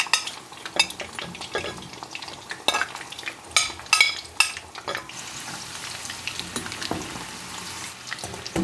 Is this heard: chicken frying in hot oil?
yes